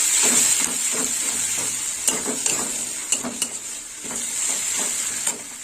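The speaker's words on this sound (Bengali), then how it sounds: "পেঁয়াজটা লাল লাল করে ভাজা হবে" Steady sizzling from onion paste frying in a pan, broken by repeated scraping strokes of a spoon stirring it.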